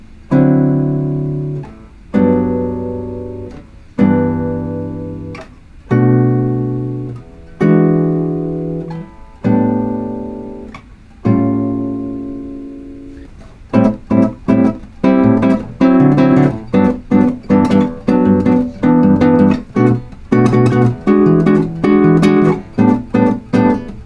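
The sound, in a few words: guitar playing bossa nova chord progression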